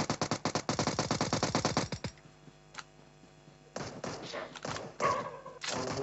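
Rapid, evenly spaced automatic gunfire in PUBG Mobile for about two seconds, then a lull with faint clatter before more heavy shots and impacts, near and loud.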